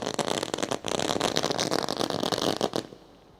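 Fireworks let off to welcome guests at a cricket tournament ceremony in Dapoli, with dense crackling bursts and pops that carry on loudly for about three seconds before cutting off.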